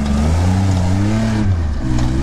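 A Lada Niva 4x4 engine running near idle while climbing a hill, a steady low rumble with a faint hum.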